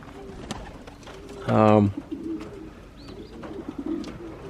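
A single pigeon coos clearly, a short low burst, over a faint background of outdoor noise and scattered small sounds.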